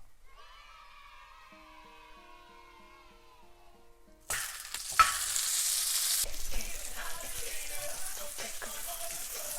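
Plant-based vegan meat cooking in a skillet. After a quiet, tonal opening, a loud, close sizzle bursts in about halfway through and continues as a dense hiss to the end.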